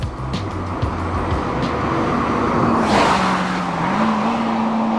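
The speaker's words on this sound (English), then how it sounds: "I'm in third gear at 60 miles an hour. I'm not into the cam." A Honda S2000 engine pulls in third gear around sixty miles an hour, a steady in-car drone with a gradually rising pitch, loud and continuous with no speech.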